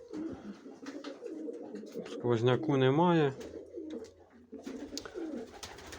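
Pigeons in an aviary coo with a rounded, wavering call that rises clearly for about a second in the middle, while someone talks nearby before and after it.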